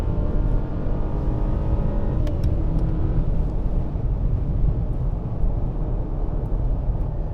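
Steady engine and road drone from inside a 2021 Mercedes GLE 350 luxury SUV with a four-cylinder engine, accelerating while merging onto a highway; a continuous, fairly loud rumble with no one talking.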